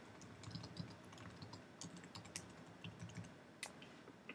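Fast, steady typing on a computer keyboard, a dense run of light key clicks with a few louder taps, fairly close and with no talking.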